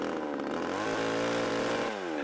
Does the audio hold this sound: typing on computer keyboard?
no